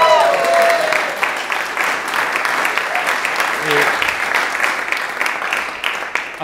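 Audience applause at a live interview event, a sustained crowd clapping at fairly high volume, with a voice briefly audible at the start and partway through.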